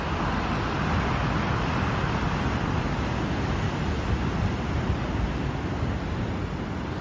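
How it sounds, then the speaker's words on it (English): Ocean surf on the Oregon coast at Yachats makes a steady, loud roar of broadband noise that holds without clear breaks for several seconds. "Listen to the waves of this ocean."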